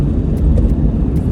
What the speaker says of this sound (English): The expressway is becoming also very busy. As we can see, it's at 4:30, and the expressway already, so many cars, some coming, some going.